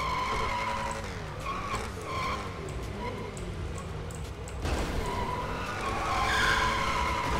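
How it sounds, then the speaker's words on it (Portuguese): Drift car in the GTA RP video game skidding with long wavering tire squeals over engine drone, loud and continuous, swelling again near the end. "Isso aqui é carro de drift"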